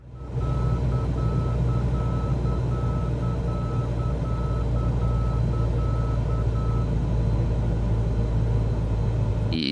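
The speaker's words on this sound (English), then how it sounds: "Middle marker." In Microsoft Flight Simulator, the middle marker beacon sounds as a steady series of evenly spaced beeps over a constant cockpit engine drone, stopping shortly before the end.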